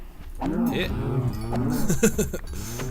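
Cows mooing in Minecraft, several low drawn-out moos overlapping close by, with a brief gap before more calls follow.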